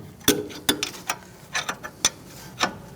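A wrench cracks loose the top bolt on a 2008-2014 Mercedes-Benz C300 rear hub assembly, making a series of about eight sharp metallic clicks and clunks at irregular intervals, close and distinct.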